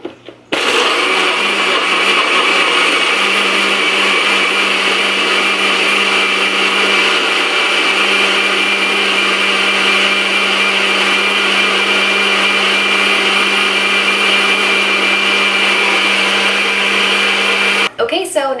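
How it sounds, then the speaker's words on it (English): A blender blending a smoothie whirs loudly and steadily for about seventeen seconds, a dense continuous roar that starts abruptly and cuts off at the end. "So let's go ahead and blend our smoothie up."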